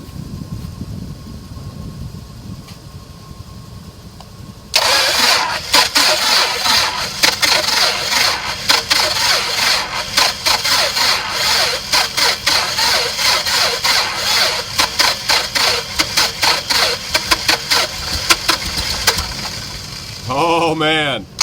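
A Mooney light airplane's piston engine catches abruptly after a quiet lead-in, then runs loud and steady with a rapid, rough pulsing beat. A short whooping voice rises near the end.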